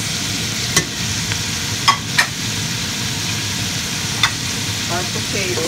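Carrots sautéing in a pot for homemade beef stew give a steady, close sizzle with a few sharp clinks of stirring spread through it, and no talk over it.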